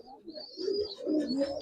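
Silver Giribaz pigeons cooing nearby in two swelling, throaty bursts, the second louder and longer, with a faint higher chirp above and no voices.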